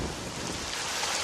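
Heavy rain in a cartoon story, a dense, loud, unbroken hiss of downpour filling the short moment with no voices.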